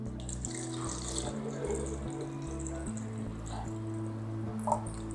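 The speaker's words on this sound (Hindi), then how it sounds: "अब हम इसके अंदर पानी भरेंगे।" Water pours steadily into the humidifier container of a Debel oxygen care system, a continuous trickling splash with occasional drips, close and moderately loud over a low steady hum.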